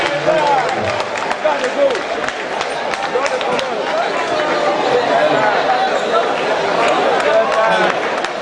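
A standing audience at a university gathering applauds the Vice Chancellor, with dense, steady clapping blended with crowd chatter and movement for the whole stretch.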